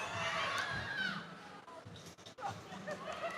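A crowd yells and cheers at an FRC robotics competition near the end of a match, loud overlapping shouts and babble, with an announcer's voice and arena noise mixed in.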